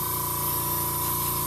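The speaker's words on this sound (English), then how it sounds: "So now I just fire up the airbrush and fill them in." An airbrush sprays paint onto a King Tiger tank scale model: a steady, close, continuous hiss with a faint tonal whine, unbroken for the whole short stretch.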